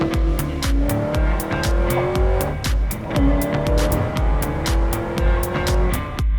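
Ford GT sports car engine revving loudly and steadily with rising and falling pitch, tires squealing briefly, up close with no talking.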